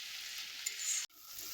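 Vegetables fry steadily in a pan for an Assamese sabji of raw green banana, a continuous close sizzle with a faint stir at about two-thirds through and a brief dropout near the end.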